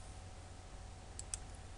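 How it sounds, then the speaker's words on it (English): Computer mouse clicking at a desk: two quick, faint clicks close together near the end, over a low steady hiss, with no speech. "So now I'm clicking the gray area"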